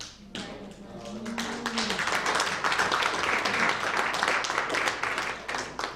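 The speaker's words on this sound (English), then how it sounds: "we're clapping because we found the kids, not because they were missing" Audience at a sheriff's talk to a Republican club in Kingman, Arizona breaks into clapping, dense and steady applause that swells quickly and carries on at close range, with a few low voices briefly underneath at the start.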